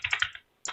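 Several quick clicks on a computer keyboard, a short cluster of taps, a brief pause, then more keystrokes, close and clear with no talk.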